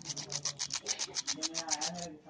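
Rapid rhythmic rubbing and rasping as the contact point of an electric iron is scrubbed clean, about a dozen quick close strokes with faint talk underneath.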